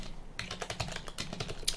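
Quick, light key clicks come from a computer keyboard as a Linux terminal command is typed, a short close burst of rapid tapping.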